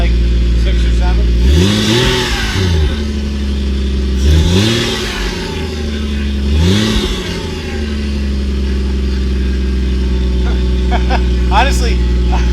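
A Toyota Supra engine idles steadily around 1500 rpm after years of sitting, a loud, close, continuous drone with three rising revs early on, alongside someone talking.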